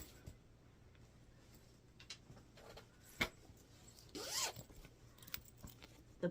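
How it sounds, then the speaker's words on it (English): A zipper pull slides briefly along a lined, quilted fabric bag, giving one short raspy run near the middle of an otherwise quiet stretch with a few small handling ticks and taps around it. "Zipper pull."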